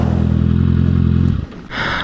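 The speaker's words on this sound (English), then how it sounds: "I'm doing this all in 4th gear, like the California Superbike School, allowing you to use the engine" Motorcycle engine braking in 4th gear: a loud, steady low drone that cuts off after about a second, followed by rushing wind noise.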